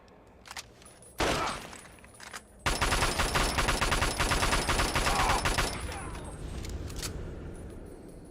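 A Chinese 10mm pistol in Fallout 3 firing a long rapid string of sharp shots, loud and close, after a few scattered single cracks, then trailing off into quieter game noise.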